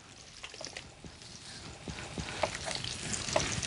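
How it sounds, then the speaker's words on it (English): Water boils in a pot with bubbling, crackling sounds and sporadic pops and clinks, a steady near hiss throughout, no voices. "The water is now boiling."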